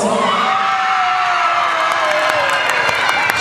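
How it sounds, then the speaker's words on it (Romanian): Crowd cheering and applause at the WinterDanceFest dance contest results fill the space with loud, sustained whoops and shouts, many of them from children, while a voice carries above the noise. "Aplauze, doamne și domnilor, haideți ușor"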